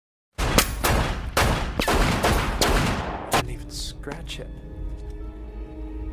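Film-scene gunfire as bullets are fired at a statue: a rapid, loud volley of close shots over the first few seconds, then fading into sparse hits and a low lingering tone.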